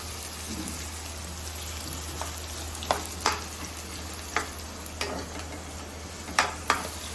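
Steady close sizzling of onions frying in a pan, with a few sharp spatters and clinks of stirring scattered through, no voices.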